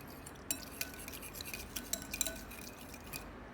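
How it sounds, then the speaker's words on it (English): A spoon stirs yogurt starter into warm milk in a bowl, giving soft, faint clinks and scrapes in an irregular rhythm, with no talking. "Gently stir until the yogurt is completely dissolved."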